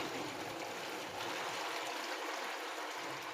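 Water pours and trickles steadily into a homemade cooler, a faint continuous splashing hiss lasting a few seconds with no talk.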